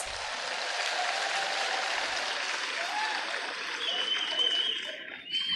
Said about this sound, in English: I think we can give ourselves a big round of applause.